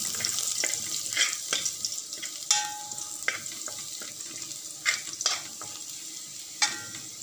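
Tomatoes, salt, black pepper and cumin simmering in a pan for shrimp kofta, with a soft continuous sizzle and bubbling, punctuated by several sharp stirring clatters and scrapes, close and moderately loud, no talking.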